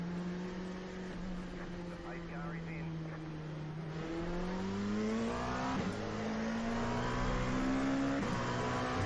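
Race car engines in the iRacing game rev and accelerate at a race start at Watkins Glen in an LMP2 Cup field, a steady droning roar with rising pitch that runs the whole time, with faint talk in places.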